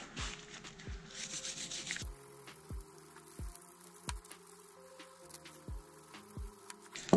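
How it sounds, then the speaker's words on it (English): Wire brush scrubbing red corrosion off a motorcycle engine case, heard as a steady rasping scrub close up with repeated sharp knocks or taps at a fairly even rhythm throughout. "I'm gonna go with the wire brush now."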